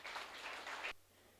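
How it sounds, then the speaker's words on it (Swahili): Church congregation clapping for Jesus, a short burst of dense applause that cuts off abruptly, leaving quiet room tone. "Situpigie Bwana Yesu makofi"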